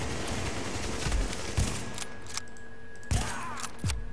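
Gunfire in the video game The Division: sharp bursts of automatic shots and single cracks over a busy game soundscape, moderately loud with no voices.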